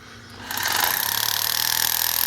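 A hammer drill breaks out concrete at a wastewater treatment plant, its rapid percussive chatter kicking in after a quieter whir and hammering steadily and loudly to the end.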